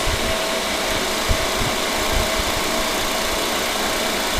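Refrigerant recovery vacuum machine pulling R12 from a 40-year-old Sub-Zero refrigerator, a steady close motor hum and whir with a faint whine running continuously and alone.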